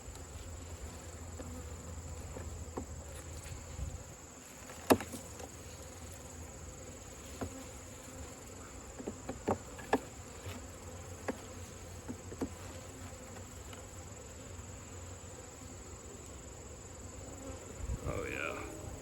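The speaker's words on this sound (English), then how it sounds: "Here's some bees now." Honey bees hum and buzz from a hive with its top opened, a steady insect drone under scattered clicks and handling knocks, with someone speaking quietly now and then.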